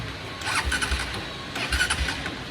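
A motorcycle engine starting: a few brief low cranking bursts and sputters of a bike with a known starting problem, outdoors, fairly close and moderately loud.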